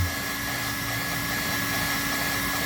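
A hot air welder tacks the top surface of a TPO roof membrane during a roof repair, producing a steady, close blowing whir with a thin constant whine and no speech.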